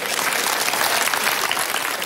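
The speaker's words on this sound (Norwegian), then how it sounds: "så gi en applaus, så går han" Dense studio audience applause at a television entertainment show, loud, close and sustained without a break, no talk over it.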